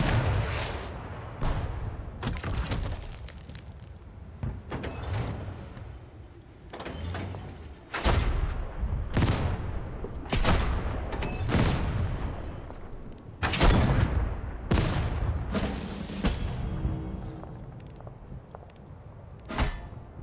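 In the Total Tank General game, during the Soviet Moscow counter-offensive, artillery fire booms out in a long irregular series of heavy, close blasts, each followed by a short rumbling decay.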